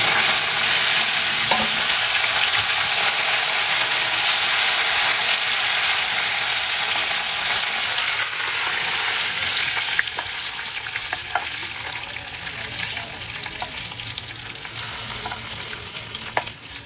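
Curry leaves frying in hot oil for a tempering, a loud continuous close sizzle and crackle holding steady throughout, with occasional small clicks of a utensil and no voices.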